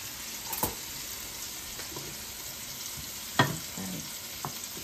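Food sizzles in a hot skillet with a steady, close hiss, punctuated by a couple of sharper scraping stirs.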